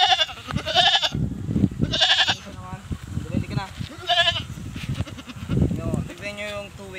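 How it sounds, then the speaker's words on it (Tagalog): A two-week-old Boer goat kid bleats in several loud, wavering cries spaced a second or two apart, close by, with a person talking between and over the calls. "So ito yung kambing natin na Boer."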